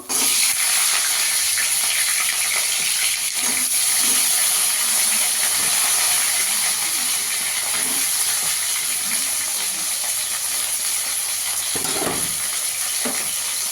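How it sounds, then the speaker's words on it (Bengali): Cauliflower frying in hot oil left over from frying fish for a katla fish curry, a steady loud hissing sizzle that runs unbroken throughout, close up, with occasional soft stirring knocks. "এই তেলে ফুলকপিটা ভেজে নেব।"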